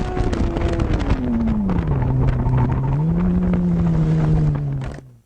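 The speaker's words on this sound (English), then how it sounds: "the tires chattering on the road? That was ABS." A motorcycle braking hard from around 75 mph under ABS gives a fluttering tire chatter on the road, with a droning engine note falling in pitch beneath it, loud and continuous before cutting off.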